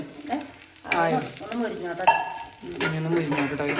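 Beef sizzles and is stirred in a traditional cooking pot, a steady frying crackle with scraping strokes, partly under a voice talking.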